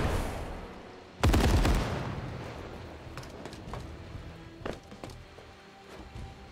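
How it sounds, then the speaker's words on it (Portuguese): A sudden loud burst of gunfire from the strategy video game SteamWorld Heist II, one sharp blast followed by a fading rumble and a few lighter clicks and thuds. "Posso dar outro tiro?"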